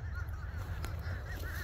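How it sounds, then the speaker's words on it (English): Sandhill cranes call as they fly in at sunset, repeated rolling, honking cries over a steady low outdoor rumble, moderately distant and continuous. "So I just got these Sandhill Cranes right here. They just flew in."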